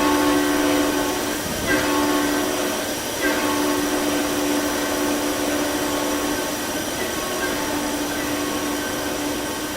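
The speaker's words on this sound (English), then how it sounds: "And here comes the loud noises about this train." In the Roblox game RO-Scale Sandbox, a loud combined Ice Train horn blares as a steady chord for about ten seconds, close and dominant, over a low rumbling background.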